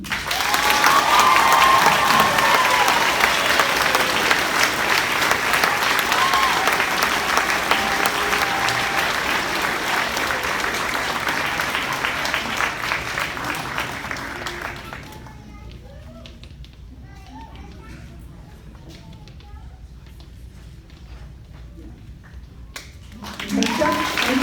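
Audience at a sixth grade graduation clapping for band award winners, a loud sustained burst of applause with a murmuring crowd that gradually thins and fades to scattered claps and quiet chatter, then swells briefly again at the end.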